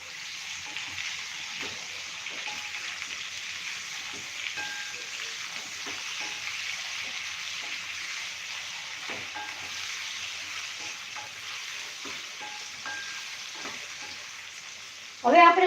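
Potatoes, capsicum and onion fry in a pan with a steady, soft sizzle, punctuated by faint scrapes of stirring and a louder clatter at the very end.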